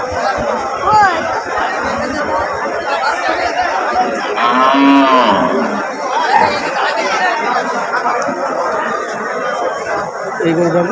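Cattle moo repeatedly at a crowded cattle market in Gadaipur, Paikgachha, Khulna, held for Qurbani, with loud, close lowing calls rising over a steady background of crowd chatter and voices.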